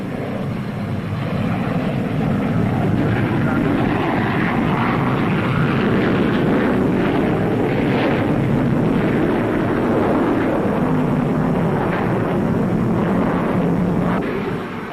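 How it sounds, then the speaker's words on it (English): Short SA-4 bomber, a four-engined jet with Rolls-Royce Avon turbojets in double mountings, passing at an airshow: a loud, steady broadband roar that holds throughout with no voices over it. "Here's the SA-4, the first new bomber out of Short Brothers since the wartime Sterling. It has 4 Rolls-Royce Avon turbojets in double mountings"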